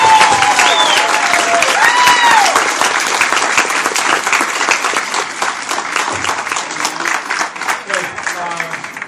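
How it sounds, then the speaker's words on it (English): Sustained audience applause at a charity auction gala, loud and dense throughout, with cheering voices and some talk mixed in early before the clapping slowly thins. "Let's give this a really nice round of applause"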